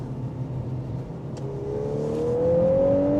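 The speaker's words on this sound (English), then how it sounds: "Let's see this Golf R, all-wheel drive." A 2024 VW Golf R with all-wheel drive accelerates hard in a drag race from a rolling start, its engine note climbing steadily in pitch as it pulls through the gear, loud and close.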